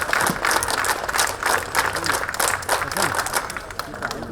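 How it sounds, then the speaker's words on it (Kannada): Audience applause fills a hall at a 2020 annual day celebration, a steady dense wash of clapping from many hands throughout, with voices mixed in underneath. "ಒಂದು ಜೋರಾದ ಚಪ್ಪಾಳೆಯನ್ನ ಕೊಡ್ಬೋದು ಎಲ್ಲರೂ"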